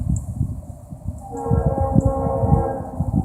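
A Norfolk Southern freight train rumbles past, a low rolling clatter that grows louder midway, with a faint horn-like tone above it.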